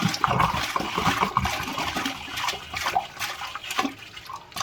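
Water drains steadily out of a pool filter bucket during weekly filter cleaning, a continuous close trickle and gurgle with small splashes throughout.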